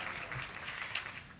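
Soft, distant applause from a luncheon audience honouring sponsors at a Women's History Month event in Bloomington, steady but faint throughout.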